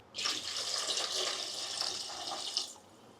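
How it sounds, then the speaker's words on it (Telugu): A steady stream of about half a litre of water pours continuously into a pot of gram-flour dumpling stew for a few seconds, close by and even, then stops abruptly. "నేను ఇక్కడ ఒక హాఫ్ లీటర్ వరకు వాటర్ వేస్తున్నా"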